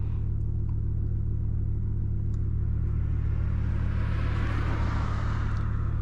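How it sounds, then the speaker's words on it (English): A 2016 BMW i8 with a 1.5-litre turbocharged inline three-cylinder in sport mode sends out a steady, deep synthetic exhaust rumble from the rear, and it swells into a rising surge toward the end. "you could definitely hear the faux exhaust in the rear basically power up. Definitely hear that rumble back there."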